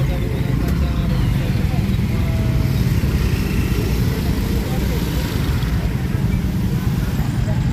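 Dense city street traffic in Pematang Siantar, with becak, cars and a bus rumbling and droning steadily close by. A voice talks over the engine noise throughout.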